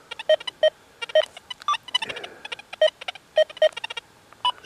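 A Deus 2 metal detector on the silencer 1 setting gives short electronic iron-tone beeps over ground with nails. The beeps are irregular and close, with one brief lower grunt in the middle.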